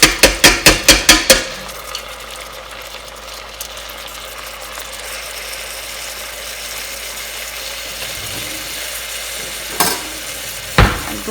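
Washed rice is stirred and sautéed in a pot, opening with a rapid series of sharp metallic taps, then a soft, steady frying hiss with a couple of louder clanks of the spoon near the end.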